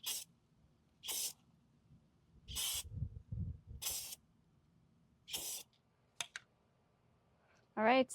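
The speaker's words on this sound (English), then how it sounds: "And now I'm going to go ahead and spray it with that truck bed coating." An aerosol can sprays truck bed coating onto the grill of a Mercedes Sprinter van in five evenly spaced, close hissing bursts, with a faint rattle and small clicks between them in an otherwise quiet space.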